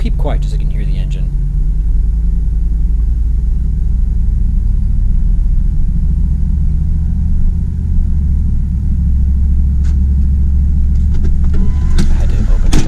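A 2004 Dodge Dakota LST Club Cab pickup with about 117k miles drives along, its engine a steady low rumble with road noise filling the cabin throughout, close and continuous with no talking.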